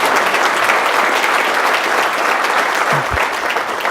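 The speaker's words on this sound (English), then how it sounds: "let's just have a quick round of applause for everybody that was able to get acknowledged today" Steady, dense applause from an audience at a corporate lunch-and-learn gathering, filling the whole stretch at close range with no voices over it.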